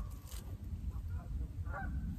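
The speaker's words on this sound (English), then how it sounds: "Got our geese coming back." A few geese honk at a distance, several short nasal calls over a faint low rumble of background noise.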